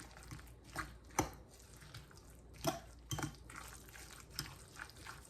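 A spoon clinks against a bowl while eggplant choka is mixed with onions and peppers; the scattered taps and scrapes are quiet and close, with soft, wet stirring between them.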